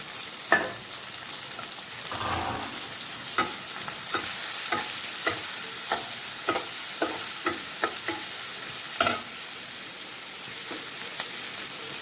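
Prawns and green chillies fry in a pan with a dense, hissing sizzle, while repeated scraping strokes of a spoon stir them, a few louder knocks standing out; no one speaks.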